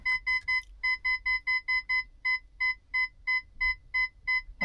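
An outgoing phone call rings in repeated short electronic beeps with a steady rhythm, clear and alone.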